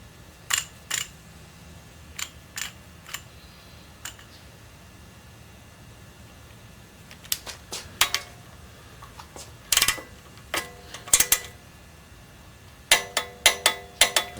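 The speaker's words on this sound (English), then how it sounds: "Now this particular bolt I usually torque to 45 pounds." Sharp metallic clicks sound from a torque wrench on a bolt during a Chevy 454 big-block engine rebuild in a quiet workshop, scattered single and paired clicks with short pauses, then a quick run of clicks at the end.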